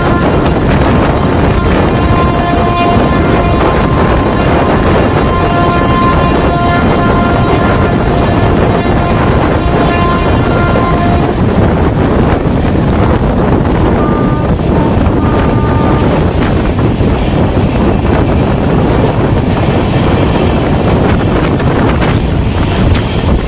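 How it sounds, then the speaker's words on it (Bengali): Sairang Kolkata Express passenger train speeding through Kalyani railway station without stopping, a loud continuous rush of wind and rolling noise with steady tonal hums fading partway through, recorded close from aboard the moving train. "এই মুহূর্তে আমাদের Sairang Kolkata express Kalyani rail station skip করছে"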